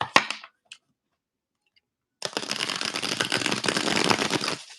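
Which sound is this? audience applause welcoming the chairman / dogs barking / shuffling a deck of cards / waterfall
shuffling a deck of cards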